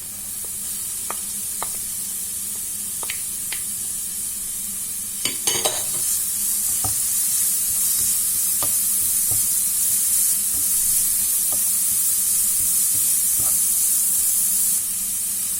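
Grated carrot goes into a pan of onions already frying, bringing a steady hiss and sizzle with scattered stirring clicks and scrapes, a brief louder burst as the carrot lands, then continuous close sizzling.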